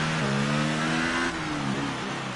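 F2 race car engine in F1 2018 at Monaco, a loud, sustained high-revving whine that drops in pitch partway through as the car slows or shifts, then holds steady, with no voices.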